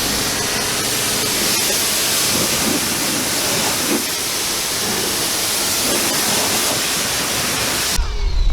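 A hose sprays water steadily to rinse shampoo off a car, a loud continuous hiss of spray that runs unbroken before a sharp change at the very end.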